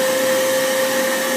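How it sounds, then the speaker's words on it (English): A vacuum cleaner runs right beside the microphone, a loud steady motor whine with a strong constant tone and broad airy roar, unbroken and alone. "I almost got eaten by a vacuum cleaner while filming"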